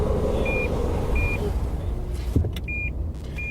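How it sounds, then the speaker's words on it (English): A Lexus Park Assist parking sensor gives short, evenly spaced electronic beeps inside the car over a steady engine and road rumble, with a brief clunk and a gap before the beeping resumes. "Sorry about the beeping. That was the Lexus Park Assist"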